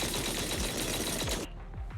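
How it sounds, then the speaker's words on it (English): Rapid, loud heavy cannon fire from the video game Zenless Zone Zero booms in a dense barrage, then cuts off abruptly into a few fading distant blasts. "That was the sound of a heavy cannon?"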